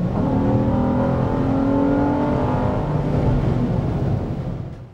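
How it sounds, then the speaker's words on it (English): A 2014 Acura MDX crossover's engine accelerates under throttle, a loud, steady, rising drone that holds for several seconds and eases off at the end, with no talking. "when you get on the gas, it actually gets fairly loud"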